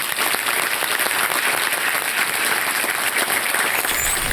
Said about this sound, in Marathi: सो त्यांच्यासाठी एक जोरदार टाळ्या.